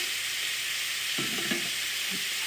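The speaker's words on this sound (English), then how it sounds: "You always want to make sure you kind of stir them a little bit in the beginning with your bacon" Bacon sizzles softly in a pan with a steady hiss while a utensil stirs it in a few short, quiet scraping strokes.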